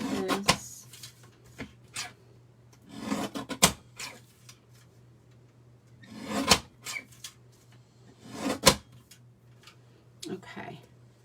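Vellum paper being trimmed for a handmade Stampin' Up craft card, giving a series of dry scraping, slicing passes in short bursts with pauses between, close and moderately loud over a low steady hum.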